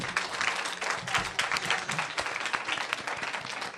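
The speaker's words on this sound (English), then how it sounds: "let's give them a round of applause." A crowd claps steadily for performers at a school fashion event, a dense, even patter of many hands that holds throughout.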